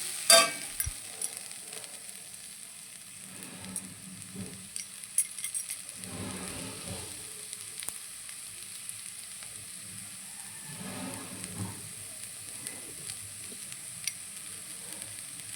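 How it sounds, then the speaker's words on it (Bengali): Eggplant and potatoes fry together in a pan, a soft continuous sizzle broken by a few scraping stirs and light clinks of the utensil, with no voices. "এই দেখো ভাজা আমার প্রায় হয়ে এসছে আর আমি আলুগুলো সাথে দিয়ে মিক্স করে নিয়েছি"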